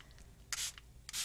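Tattered Angels ink is misted onto an artwork print in two short, hissing spray bursts, each about a quarter second long, separated by a pause and heard close up with no talking.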